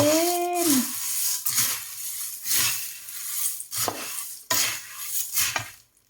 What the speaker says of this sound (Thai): ผัดกับข้าวด้วย ผัดมันฝรั่ง